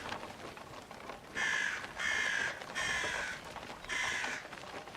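In the video game Atomfall, a crow serving as an intruder alarm gives four evenly spaced harsh caws over faint background hiss. The caws are loud and near, with no voices.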